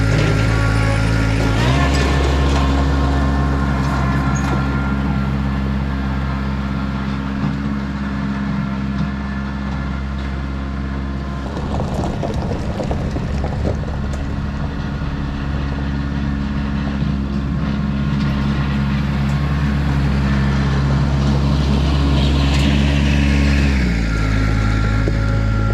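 A Kubota B3200 compact tractor runs steadily throughout a ride, its low engine drone loud and close with a constant hum, accompanied by rattling and clanking mechanical noise that briefly intensifies midway.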